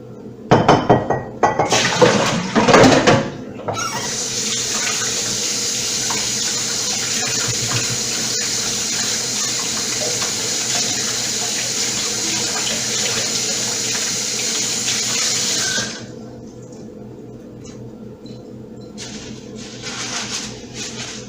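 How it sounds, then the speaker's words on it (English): Water runs steadily from a kitchen sink tap for about twelve seconds while a container is emptied and hands are washed, with clinks and splashes at the start and a few soft handling sounds once the flow stops. "I'm going to dump this water out and wash my hands."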